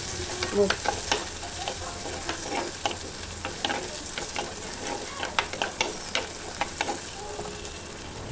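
Green chillies and curry leaves frying in hot oil for a fish curry, a steady sizzle broken by sharp crackles and spits, close and fairly quiet, with occasional stirring.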